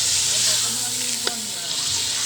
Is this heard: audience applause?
no